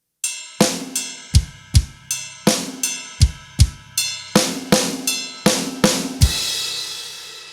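A drum fill in groupings of five and three moved onto the ride cymbal, a steady series of ringing pings with low kick thumps underneath, ending on a sustained cymbal wash, close and clear without speech.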